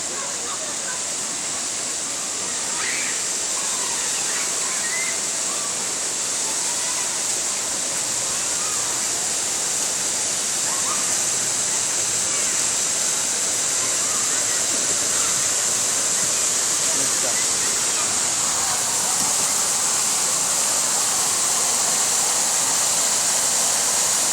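An outdoor fountain splashes and rushes in a steady, continuous wash of water, close and fairly loud throughout with no pauses.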